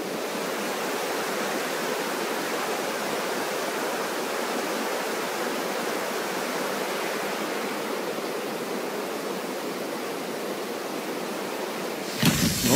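Rushing waterfall in the video game ARK Survival Evolved: Aberration, a continuous broad roar of falling water that stays even and steady throughout with no voices, cut off abruptly by a brief clatter at the very end.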